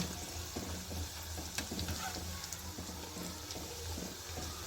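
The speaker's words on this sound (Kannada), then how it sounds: "ಇದನ್ನು ಅದೇ ರೀತಿ ಚೆನ್ನಾಗಿ ಫ್ರೈ ಮಾಡಿ ತಗೋಬೇಕು" Flour snack dough sizzles and bubbles in hot oil, a steady close crackling fry with occasional stirring clicks and no talk.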